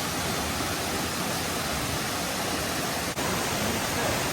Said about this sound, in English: So finally, at this small waterfall, the first one.